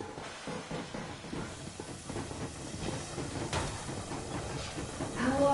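A steam train runs in a video game, giving a continuous hiss and rumble of moving rail machinery. The sound stays at a moderate level and swells slightly toward the end. No voices are heard.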